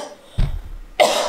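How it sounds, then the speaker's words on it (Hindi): A couple of short, harsh bursts like coughs, close to the mic, with a brief pause between them. "खांसी आ गई।"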